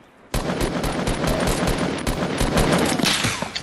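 Rapid automatic gunfire in the video game Fortnite, loud, dense bursts of repeated shots starting abruptly and continuing throughout without talk.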